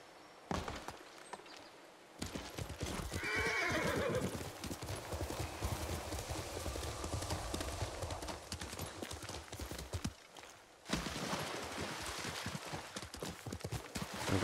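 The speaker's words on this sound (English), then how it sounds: "I'm glad the water is shallow enough that the horse can run on it" In the video game Ghost of Tsushima, rapid hoof clip-clops of a horse galloping through shallow water, with splashy texture and an occasional whinny, loud and close, with brief pauses.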